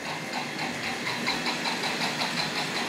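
A Tri-ang Hornby model steam locomotive with an exhaust steam sound unit runs with a continuous hissing, rhythmic chuffing texture, fairly quiet and steady, with no voices.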